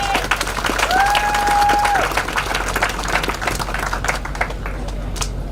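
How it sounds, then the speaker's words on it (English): An audience at an Anguilla Day ceremony applauds with a dense patter of clapping that fades gradually. A voice is faintly heard underneath. "Give them a round of applause."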